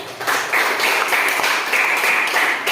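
A classroom of students clapping hands together, quick rhythmic claps in short repeated bursts, close and fairly loud, with faint chatter mixed in.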